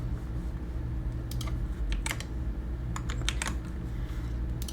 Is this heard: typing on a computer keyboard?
yes